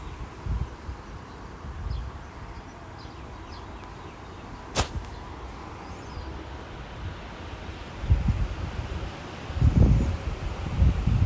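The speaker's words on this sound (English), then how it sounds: "So I guess it's a little windy." Outdoor wind on an Indiana morning, rumbling steadily against the microphone with stronger low gusts toward the end, alongside light rustling.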